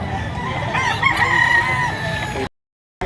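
Gamecock rooster at a Lipa, Batangas poultry sale crowing loudly and nearby in one long drawn call, with background chatter, then a brief dropout of silence.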